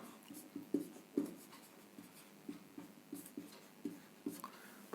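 Pen writing out a maths solution on paper in a lesson, steady scratchy strokes and small taps in a loose rhythm, close and fairly quiet with nobody talking.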